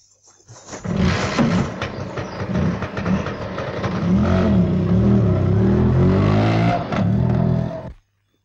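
An auto rickshaw engine revs hard and close, a rough, rising roar that holds and swells for several seconds, then cuts off abruptly into silence.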